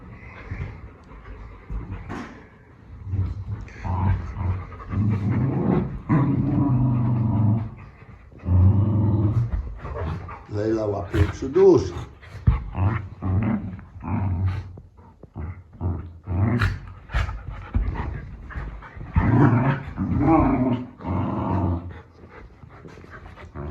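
Dogs growling, snarling and panting as they play-fight during training, close and loud, with bursts of rough vocalising and short pauses across the whole stretch.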